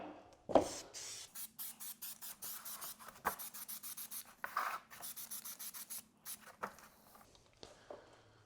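Spray gun laying another wet coat of paint on a 1948 Dodge truck frame, a series of short hissing bursts in quick succession, close and fairly quiet.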